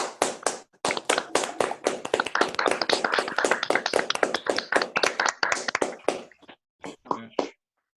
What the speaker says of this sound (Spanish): Bueno, invitamos a todos a aplaudir.